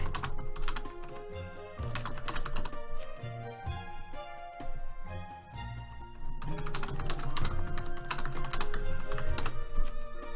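Rapid, furious typing on a computer keyboard during a Town of Salem ranked match: dense, continuous clatter of keystrokes over steady tonal background music, with a brief lull midway.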